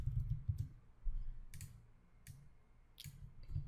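Soft, sparse keystrokes on a computer keyboard, a few quick clusters of light clicks over a faint low hum, quiet and close, with no speech.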